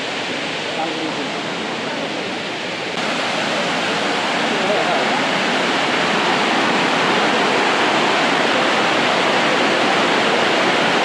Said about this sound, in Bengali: ঝর্ণার প্রথম ধাপ এলিফ্যান্ট ফলস মূলত 3টি ধাপে প্রবাহমান